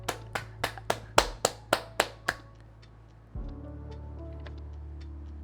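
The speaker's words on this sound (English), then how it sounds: "does that clap, the seal clap" A seal-style clap, about nine sharp, evenly spaced hand claps close by, ending abruptly and followed by a low steady hum.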